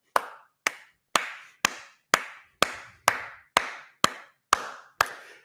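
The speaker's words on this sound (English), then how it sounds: "I have to clap for him before I even read this." Eleven sharp hand claps come in a slow, even rhythm from a single person close by, each one crisp and dry with a short decay, and no voices between them.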